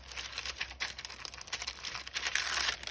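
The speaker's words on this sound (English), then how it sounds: "I love the sound of that paper." Paper crinkles and rustles steadily nearby while materials are arranged in a prayer journal, a continuous soft crackling texture at low volume with no voices.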